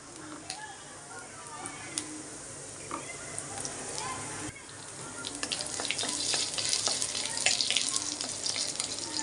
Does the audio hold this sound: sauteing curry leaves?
yes